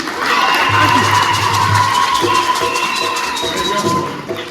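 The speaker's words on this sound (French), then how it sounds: "On applaudit pour les filles" A crowd at a children's parish mass for Sainte Agnès applauds and cheers for the girls: a steady, dense wash of clapping and voices that holds loud throughout, then eases slightly near the end.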